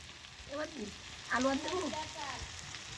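Sliced onions frying in oil to make beresta, a steady hissing sizzle heard close up while someone speaks briefly over it.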